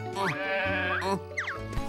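A cartoon sheep bleats in a few wavering, nasal calls, close and clear, with a springy sliding effect between them and no talk.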